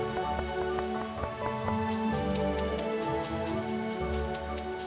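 Steady rain falls in a forest video game, a continuous wash of drops spread across the clip, with game music tones layered over it and no talking.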